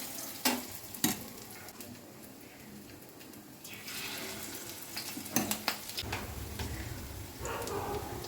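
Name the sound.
frying batter-coated bakful flowers for pakora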